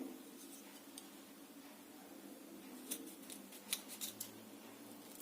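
Lemons being cut with a knife for juice for a chilli pickle, a few faint crisp slicing clicks and snips, mostly in the second half, against a quiet room background.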